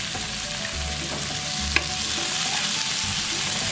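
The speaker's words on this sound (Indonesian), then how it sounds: "Oke, kita aduk rata." Corn rice mixture is stirred in a sizzling pan, a steady loud frying hiss with low scraping strokes and one sharp utensil tap midway.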